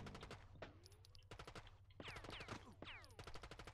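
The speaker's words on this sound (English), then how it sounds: "someone's shooting at me!" Gunfire in the PS1 game Rainbow Six: a rapid string of sharp, echoing shots in several quick bursts with brief pauses between them, loud and close.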